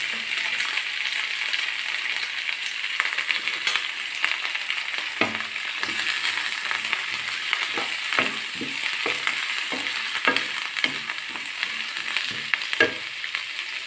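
Curry leaves and 3-4 chopped green chillies fry in a pan with onion, ginger and garlic, making a steady close sizzle broken by repeated stirring scrapes.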